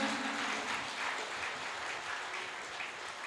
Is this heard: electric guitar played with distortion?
no